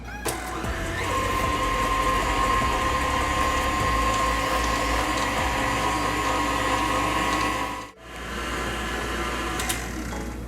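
An electric mixer whirs steadily for about eight seconds as it blends vanilla and salt into trifle batter, then cuts out briefly and starts again, loud and close.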